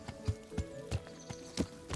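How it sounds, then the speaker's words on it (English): A horse in the video game Kingdom Come: Deliverance, its hooves clip-clopping in a quick steady run of about six close, moderately loud thuds, with no talk. "that horse has been there the whole time"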